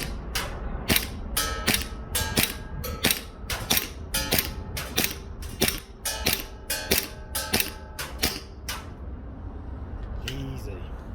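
A WE Glock 17 Gen5 MOS airsoft pistol fires repeatedly at a 30-meter range, about twenty sharp close cracks in irregular quick succession with a brief pause before a couple of final shots.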